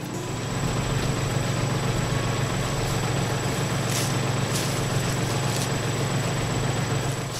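A tractor engine runs steadily with a low, constant hum while towing a heavy culvert pipe section along a trail, loud and continuous throughout with no talk.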